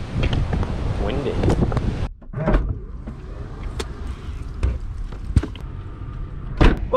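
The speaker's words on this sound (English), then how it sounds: "Windy." Loud wind buffets the microphone in rough gusts, then cuts out abruptly before softer rumbling, handling noise and scattered knocks follow.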